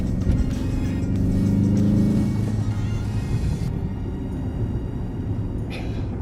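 An Audi S8 sedan accelerates along a winding road, its engine rumbling loud and steady from inside the cabin, the low drone holding and easing slightly as the car pulls.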